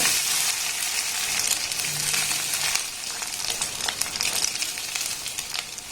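Cooked rice being stir-fried for fried rice in a small pan, a continuous close sizzle and crackle with scraping and tossing noises that rise and fall as the rice is stirred.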